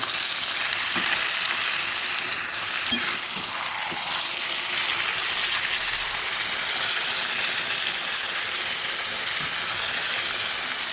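Desi chicken curry with potatoes sizzling in a pot, a constant dense hiss with occasional soft stirring scrapes, close and steady without talk.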